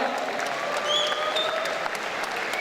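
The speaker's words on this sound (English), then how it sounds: "massive round of applause for both of these guys, please" Crowd applause at a boxing event after an under-80-kilo bout, sustained clapping filling the room with faint tonal whistles or cheers riding over it.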